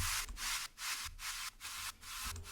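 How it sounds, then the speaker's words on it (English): Bursts of filtered white noise that swell and cut off in a choppy series, loud and airy, with brief gaps between each sweep. "and a noise down."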